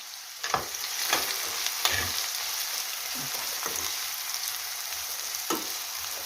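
Onion frying and stewing in plenty of oil in a pan while making Bukovina-style lenten cabbage rolls, a steady close sizzle with several sharp stirring scrapes and clinks scattered through it, no voices.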